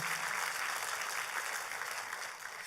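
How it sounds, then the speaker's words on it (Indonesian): Steady audience applause during a Christian church sermon, a continuous hiss of many hands clapping, somewhat distant and fairly faint, with no voices over it. "kalau mau tepuk tangan, tepuk tangan"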